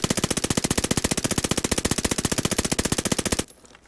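An Armaguerra submachine gun fires in a video game: one long rapid burst of evenly spaced, loud, close shots lasting about three and a half seconds, then a brief fading tail, no voices.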